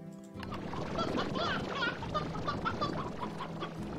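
Chickens clucking in a coop in the Slime Rancher video game, several birds chattering and squawking in overlapping bursts, moderately close with a low hum beneath.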